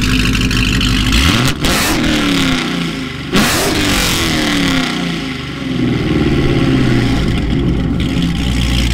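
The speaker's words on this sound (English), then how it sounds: "You gotta hear this exhaust." A loud Dodge Hellcat exhaust revs hard several times, deep rumbling bursts rising and falling between idle, close by with no talking.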